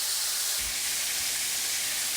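Cubed steak pieces frying in a pan for a Southern crockpot dinner, a steady close hiss and spatter of oil running through the whole moment with a couple of soft low bumps.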